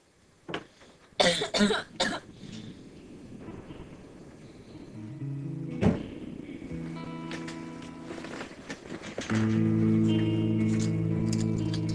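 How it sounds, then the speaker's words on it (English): A person coughs in several harsh, close bursts near the start and once more midway, followed by a steady low hum and faint tonal background sounds. "Oh, all that cough."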